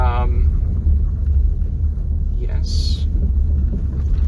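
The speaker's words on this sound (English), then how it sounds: "here's another car coming in here" A car approaching along a road beside the Lone Star Trail: a loud, continuous low rumble with wind buffeting, and a few brief higher chirps over the top.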